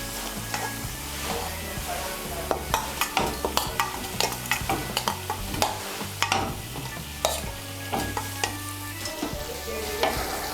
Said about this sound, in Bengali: এর মধ্যে এখন আমি ভেজে রাখা আলুগুলো দিয়ে দেব।